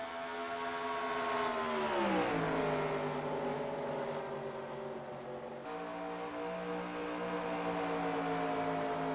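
Race car engine at Pikes Peak, loud and sustained, its pitch sweeping downward as it passes then settling into a steady drone, with the tone shifting again partway through; no talking.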